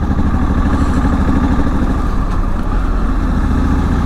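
Honda Africa Twin adventure motorcycle on a muddy, gravelly road: a steady, close engine drone with low rumbling throb and some clatter, continuous for the whole stretch with no talk.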